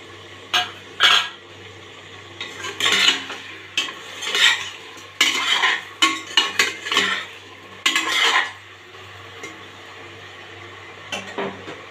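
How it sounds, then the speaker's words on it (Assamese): Local chicken pieces fry with a few bay leaves in a metal pot, heard as repeated close scraping and clattering stirring strokes over a soft steady sizzle, pausing briefly between bursts. "ভালকৈ মাংসখিনি ফ্ৰাই কৰিব লাগিব। তেজপাত কেইটামান দি দিলোঁ।"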